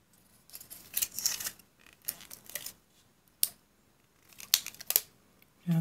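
Dollar Tree washi tape torn on a small plastic tape dispenser cutter, a few faint crinkly rasps and clicks close by, alone in a quiet room.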